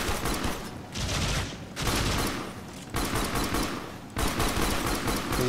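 Pistol gunfire in the sci-fi shooter Warframe, repeated bursts of sharp shots in several clusters with brief lulls between, loud and dense with game effects.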